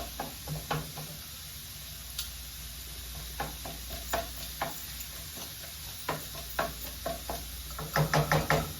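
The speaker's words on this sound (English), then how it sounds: "Brown this, cooking it. Cooking this pork sausage." Pork sausage browns in a pan for barbecue sausage baked beans, giving a steady low sizzle broken by scattered knocks and scrapes of stirring that gather into a louder cluster near the end, with no talking.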